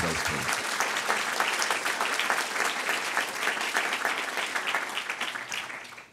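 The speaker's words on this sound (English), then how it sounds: "can we have a very quick round of applause for everybody that's actually submitted to those teams?" Audience applause at a university sustainability awards ceremony, a steady round of clapping from a crowd that holds for about six seconds and then begins to fade.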